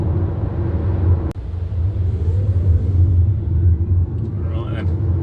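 A 2020 Kia Soul EV electric car drives on the road, giving a steady low rumble of tyres and road noise from inside the cabin with a brief click partway through.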